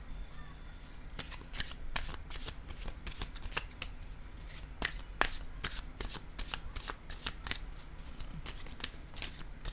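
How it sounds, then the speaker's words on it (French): A deck of oracle cards is shuffled close by. The crisp riffling flicks and snaps come in a quick, irregular series over a quiet background, with no talking. "Là, je vais piger une carte, un message de l'univers."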